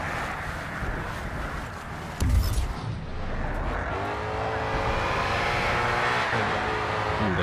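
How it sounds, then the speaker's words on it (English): A racing car engine in the video game Grid 2 roars steadily with a rising, whining pitch, plus a brief rough scrape or impact partway through; no talking. "Maybe that was just the sound of my destroyed engine."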